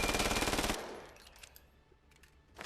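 A gun fired one-handed in the VR shooter Vail VR lets off a loud, fast automatic burst lasting under a second, followed by faint clicks and handling noises and a short sharp sound at the end.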